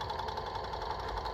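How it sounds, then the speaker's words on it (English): Pegasus MX5214-M03/333 four-thread overlock sewing machine stitching, a steady fast mechanical whir with a fine regular pulsing, fairly quiet and constant, with no voices. "So let me just start sewing."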